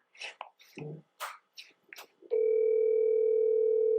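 A telephone dial tone comes on over a speakerphone in an office setting, a steady continuous hum that starts abruptly after a few brief rustles and mouth sounds and holds unbroken to the end.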